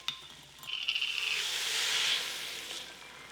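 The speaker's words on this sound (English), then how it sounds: "Now we'll add in our vegetable broth." Vegetable broth hits a hot pan holding lentils for a coconut curry lentil soup, raising a steamy sizzling hiss that swells, holds, then eases off, with no one talking.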